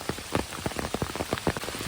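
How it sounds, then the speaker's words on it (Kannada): Heavy rain pours through a forest in the Malenadu hills near Koppa, a dense close patter of drops striking leaves and ground, steady and loud with no voices. "ಫುಲ್ಲು ದಿಕ್ಕೆಟ್ ಮಳೆ ಈ ಶಬ್ದನ ಅನಲೈಸ್ ಮಾಡಿ ಎಷ್ಟು ಚೆನ್ನಾಗಿರುತ್ತೆ"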